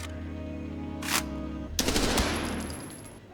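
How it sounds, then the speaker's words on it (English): An M4 rifle in the video game Arena Breakout Infinite, fitted with a 100-round magazine, gets a magazine check: two short, sharp mechanical handling bursts, the second longer, over a steady low background hum. "Let's compare the mag check speed on both."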